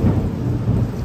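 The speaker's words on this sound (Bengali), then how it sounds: "মুষলধারে বৃষ্টি হচ্ছে, এত জোরে বৃষ্টি আসছে, খুব জোরে বৃষ্টি হচ্ছে, খুবই জোরে। এই যে টিনে পানি পড়া দেখে বুঝতে পারবে" Heavy downpour drumming on a tin roof during a thunderstorm, a dense, steady roar of rain with low rumbling thunder rolling underneath, close and loud throughout with no voices.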